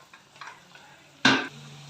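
Tempering spices hit hot oil in a pan with a sudden loud sizzling burst partway through, preceded by faint stirring clinks and followed by a steady low crackle.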